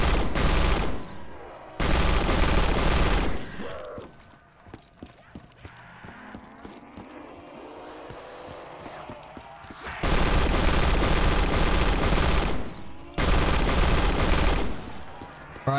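Gunfire in Black Ops 3 Custom Zombies, loud sustained bursts at the start and end with a quieter middle stretch of game effects and a voice talking over it.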